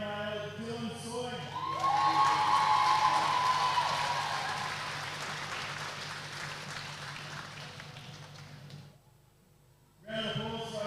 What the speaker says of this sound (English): Round of applause for our Youth A male Podium.